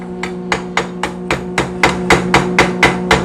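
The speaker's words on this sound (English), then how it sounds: "chip off the slag" A hammer chips slag off a fresh weld bead on metal pipe, about a dozen sharp, evenly paced metallic strikes close by over a steady background hum, with no voices.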